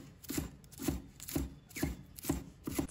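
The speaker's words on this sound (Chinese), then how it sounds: "把葱叶切成葱花" A knife chops scallion greens into small rings on a cutting board, its steady, evenly spaced strikes close and clear, about two per second, with no talking.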